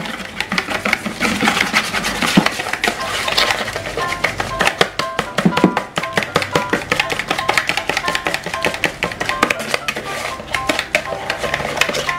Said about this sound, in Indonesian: Kemudian kita aduk menggunakan whisker sampai merebusa ataupun kental, putih dan berjejak.